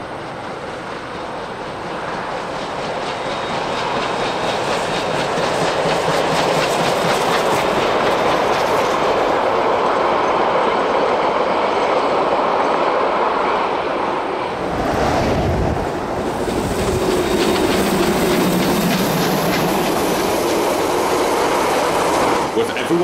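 Steam locomotive AB608 running along rails in New Zealand, a continuous loud rumble with clickety-clack from the wheels and some wind buffeting on the microphone, passing close by.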